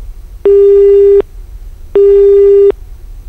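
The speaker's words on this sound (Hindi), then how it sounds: "लगता है कि फोन कट गया है," Two identical loud telephone busy-signal beeps, evenly spaced, sound alone against a quiet background.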